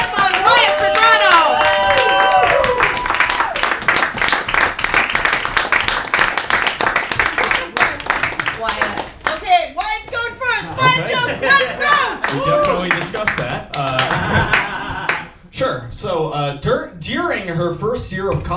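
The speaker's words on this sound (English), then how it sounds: "Keep those hands clapping for Britney, Ledesma, and Wyatt for Feegrado." Audience at a dance battle clapping hands for the contestants: a dense, sustained wash of applause under amplified music and an announcer's voice, with crowd chatter as the clapping thins out.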